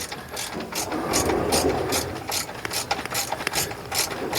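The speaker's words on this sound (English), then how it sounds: "We're going to loosen those 4 bolts and simply slide it left to right until we're back on spot." A ratchet wrench works loose the bolts on a Brunswick GSX bowling pinsetter, a rapid run of sharp metallic clicks in quick regular strokes, close and fairly loud with no talk over it.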